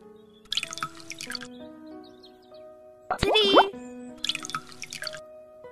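Water poured from a bottle into a bowl gives a short, gurgling fill whose pitch rises quickly, set between stretches of speech.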